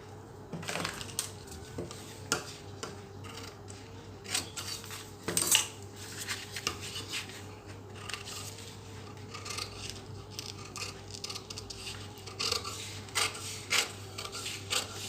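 Scissors cutting a paper blouse pattern, with quiet repeated snips, rustling and scraping of paper on a hard surface, and irregular bursts of cutting throughout.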